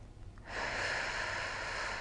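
A deep, audible breath taken during a towel stretch, a soft rushing inhale that swells suddenly and holds steadily, close and quiet with no talking.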